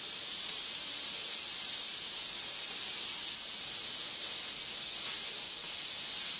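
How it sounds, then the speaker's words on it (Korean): Steam hisses steadily and loudly from a flameless self-heating cooking container boiling two packs of ramen outdoors on a mountain, a continuous bright rush with no pauses. "이렇게 김이 많이 나온다고"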